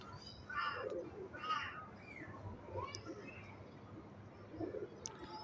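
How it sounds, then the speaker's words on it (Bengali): Pigeons cooing in a winter loft, soft low coos repeating at irregular intervals under a faint ambient hum, with a few distant bird calls mixed in. "এই যে আমাদের শীতের প্রথম অতিথি কবুতর"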